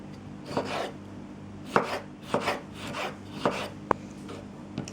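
A knife chops tomatoes on a cutting board in a handful of crisp, close thuds at an uneven pace, with a faint steady hum behind.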